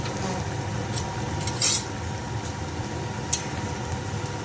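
A spoon scrapes and clinks against a pot while a duck egg, cauliflower and potato curry is stirred, with a low simmering hiss throughout and two brighter metallic knocks close by.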